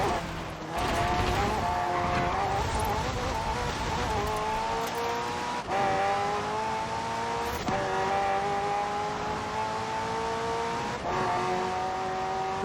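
A McLaren race car in Forza Horizon 4, its engine revving up through repeated gear changes with rising whines and brief shift cuts, loud and close, with no talk.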